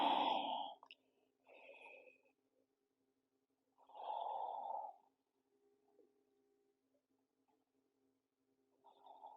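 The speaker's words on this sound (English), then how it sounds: "just breathe big here for a couple of breaths" Slow, deep breaths during a gentle first-trimester prenatal yoga stretch, a few long airy inhales and exhales separated by quiet pauses, close to the mic.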